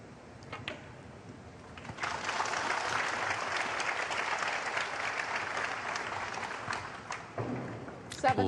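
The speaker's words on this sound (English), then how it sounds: "Applause for frame ball." An audience at the 2024 Shanghai Masters snooker match between Mark Selby and Pang Junxu breaks into steady applause for a frame ball. It starts after a brief quiet opening, holds level for several seconds, then thins toward the end, with a few louder claps.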